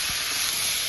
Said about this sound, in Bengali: গোবিন্দভোগ চালটাকে নাড়াচাড়া করে ঘিয়ের সাথে আমি পুরো ভাজা ভাজা করে ফেলেছি